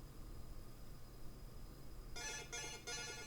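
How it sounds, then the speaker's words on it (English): A muted phone plays its notification anyway: three quick bursts of a bright electronic chime near the end, after a stretch of faint hiss. "Even though my phone is on mute, it still likes to play the thing."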